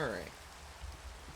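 Rain falling in the Minecraft video game makes a steady, soft hiss, with a brief voice at the very start before the rain carries on alone.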